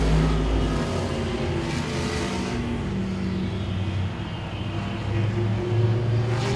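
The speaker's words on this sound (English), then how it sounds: "Big gaggle of cars right here" Modified race cars at Langley Speedway roar past in a close pack, engine drones rising and falling loudly and continuously as the field races by.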